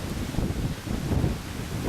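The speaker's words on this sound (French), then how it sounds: "il y a trop de vent aujourd'hui" Strong wind blows outdoors, buffeting the microphone with a steady, loud, low rumble that surges and eases without pause.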